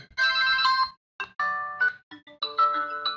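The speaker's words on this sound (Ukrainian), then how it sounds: "вибір мелодії при вхідному дзвінку" A smartwatch incoming-call ringtone, a bright electronic melody of chiming notes repeating in quick bursts, close and clear, with no voices.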